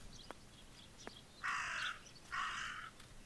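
A raven in the video game Martha is Dead gives two harsh, rasping caws in quick succession, loud and close, with a couple of faint clicks before them.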